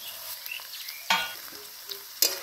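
Capsicum and chopped chili get stirred into vegetable chowmein in a hot pan, giving a quiet, faint sizzle broken by a few sharp spatula scrapes and clacks.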